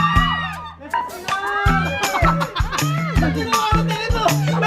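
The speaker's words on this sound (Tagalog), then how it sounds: "Sigawan na sila doon." A crowd of people shouting and cheering, excited overlapping voices and whoops rising in bursts, loud and close, with speech mixed throughout.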